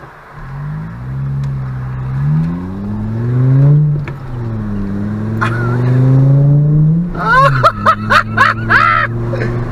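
A VW MK5 Rabbit fitted with a cat-back exhaust accelerates hard through the gears, its loud rising engine drone climbing in pitch twice. A quick series of sharp pops and burbles follows near the end, heard from inside the car.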